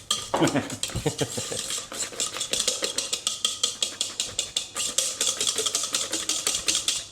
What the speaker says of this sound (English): so you can do one last whisk, just to sweeten that up a little bit